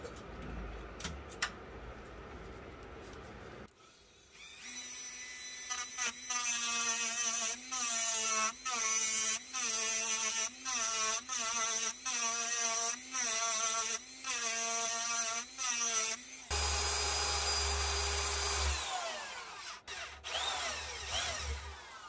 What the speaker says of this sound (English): I think I'm just going to have to drill this out